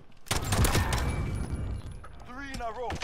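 Rapid, sharp gunshots from a pistol fight in the video game Modern Warfare, Gunfight mode, firing in a quick cluster and then fading, while players talk over the action.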